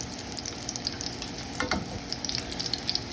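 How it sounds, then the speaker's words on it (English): Breaded pork loin searing in hot oil in a pan, a steady close sizzle and crackle with faint spatter throughout. "at this point, I'm really just searing them until they have like a nice"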